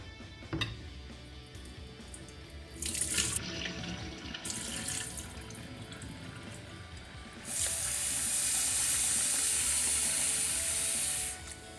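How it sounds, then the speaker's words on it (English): Tap water runs to rinse and soak urad dal in a kitchen, a brief gush and splashing early on, then a steady loud stream of running water near the end, close with no one speaking. "Now I am soaking the urad dal."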